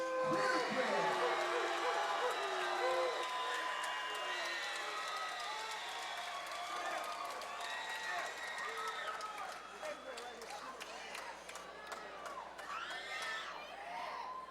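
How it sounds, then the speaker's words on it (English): Crowd at a CCFC 10 cage-fighting event in Santa Rosa cheering and shouting after a first-round knockout, a loud sustained roar with whistles and yells that slowly eases, a ring announcer talking over it. "the crowd's very excited about Quitiquit's victory"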